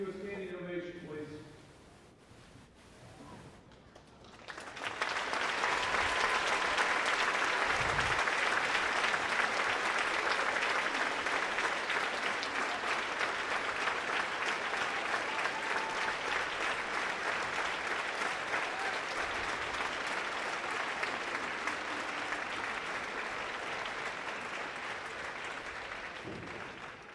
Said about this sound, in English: so we can give you a standing ovation, please